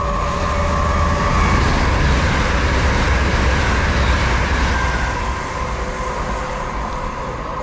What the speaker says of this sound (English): heading through there was Transpennine Express service, heading off to, I think it's Manchester Airport